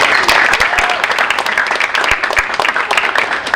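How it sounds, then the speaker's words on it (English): Audience applause at a National Letter of Intent signing ceremony, a steady burst of clapping hands with sharp individual claps standing out throughout, fairly loud and close, with no voices on top. "So let's give a round of applause for Mr. and Mrs. Hogan."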